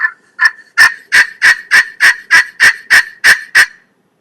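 A wild turkey yelping close and loud, about a dozen evenly spaced raspy yelps in a steady rising rhythm, alone with no voices.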